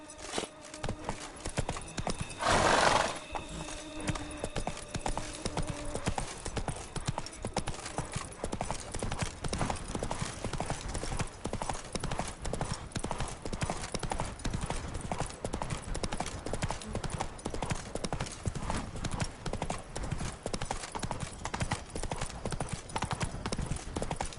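Roach the horse galloping in The Witcher 3: Wild Hunt, a fast, steady drumming of hoofbeats sustained throughout, with a brief whinny near the start over ambient game sound.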